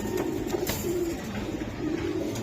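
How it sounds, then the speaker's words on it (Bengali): Large Budapest racing pigeons coo on a rooftop, steady low rolling calls repeating through the clip, close and clear against faint background noise. "বিশাল সাইজের কবুতর।"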